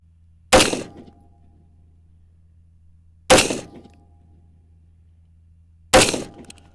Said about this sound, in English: I am at 36 yards, shooting 223 PMC, 55 grain, 3 shots.